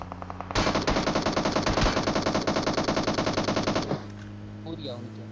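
Enemy automatic fire in the mobile game PUBG Mobile: a loud, rapid, unbroken burst of machine-gun shots lasting over three seconds, then fading to quieter game sounds.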